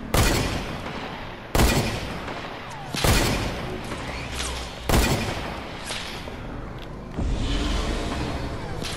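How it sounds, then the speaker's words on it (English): Rapid bursts of video game gunfire from a shooter, loud and dense, with sharp volleys returning about every one and a half seconds and a steady clatter of shots in between. "I'm shooting rapid, I can't even see who I'm shooting at."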